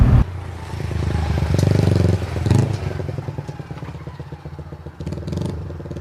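An animated jeepney speeding off suddenly, a loud rumbling engine with rattling clatter and scraping, steady and close for several seconds.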